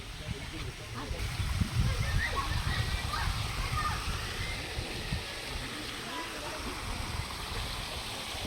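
Sulfuric spring water at a resort at the foot of Kanlaon Volcano splashes and streams steadily, a continuous near rushing wash with sloshing over several seconds.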